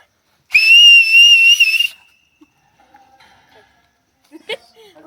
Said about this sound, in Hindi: बाप बेटे सारे सीटी कौन बजा सकता है वो चल रहा है।